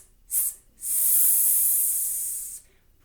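A voice makes a sustained hissing "s" that imitates a snake, with a short hiss first, then a pause and a long, steady hiss of about two seconds before it fades to quiet.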